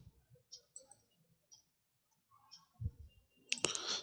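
Sparse, quiet mouse clicks on a computer sound as isolated ticks spread over several seconds, with a brief low murmur and a louder burst of rustling noise near the end.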